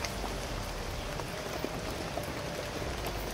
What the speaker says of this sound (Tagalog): lakas pa talaga yung ulan